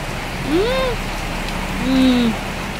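Steady rain falls on a religious procession, a continuous broad hiss throughout, with a few brief tonal whistles rising and falling over the downpour.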